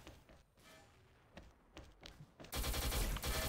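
Assault rifle gunfire from the XSHOT shooter, a Diamond Dust-Galaxy skinned rifle: scattered faint shots early, then a loud sustained automatic burst filling the final second, with no talk.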